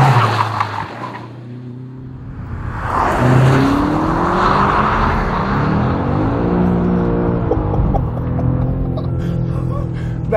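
A 2021 BMW M5 CS in rear-wheel drive mode accelerates hard, its engine note climbing loud and close through several gear changes, with tyre squeal and road roar mixed in.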